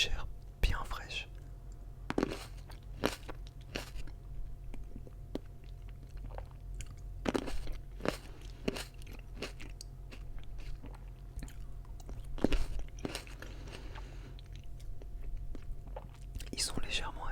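Fresh seedless grapes are bitten and chewed close to the microphone, with repeated juicy crunches and squishy chewing in an irregular rhythm, mixed with soft whispered talk.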